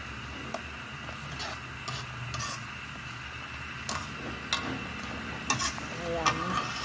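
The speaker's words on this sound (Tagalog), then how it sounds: "Dahan-dahan na ang paghalo guys para hindi madurog ang ating tilapia." Tilapia being stirred gently in coconut milk in a pan, a soft bubbling simmer with light scraping and clicking under a faint, steady hiss, with no voices.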